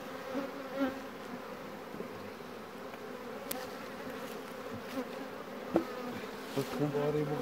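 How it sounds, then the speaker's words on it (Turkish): A steady, dense buzz of many agitated honeybees fills the air close by during a hive inspection on a chestnut mountain, with occasional sharper clicks and taps. "Meme kontrolü ve arının burada hırçınlaştı."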